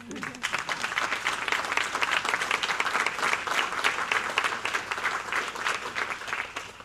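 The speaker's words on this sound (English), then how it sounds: "we'd like to give you a round of applause again" Audience applause at a school district State of the District address, with a dense, steady wash of clapping from a large crowd sustained throughout at moderate loudness.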